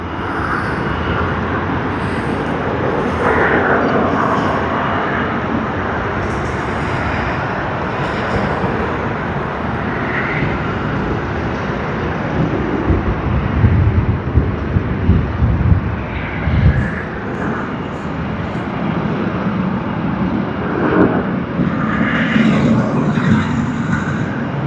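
Air New Zealand airliner in black livery landing at Sydney Airport, a steady broadband roar of jet engines and rushing air holding for the whole stretch, swelling slightly midway, with wind buffeting the microphone.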